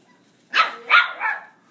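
Three quick yips from a puppy in a basement, close and clear, rising and fading within a second against a quiet room.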